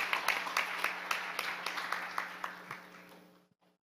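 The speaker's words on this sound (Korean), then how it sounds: "이런 점에서 우리 서병수 의원님 마지막까지 자리 지키시는데 박수 한번 치면서 말씀 한번 듣겠습니다" A seated audience at a university roundtable forum claps for a few seconds, scattered moderate applause that thins out and stops abruptly.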